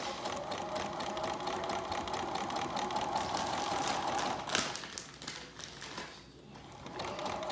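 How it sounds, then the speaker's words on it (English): A sewing machine stitches along the fabric edge of a backpack, with a fast, steady mechanical chatter at close range, a brief pause and a soft clunk midway, then stitching again. "you're going to be stitching on the fabric, off the fabric, on and off, on and off"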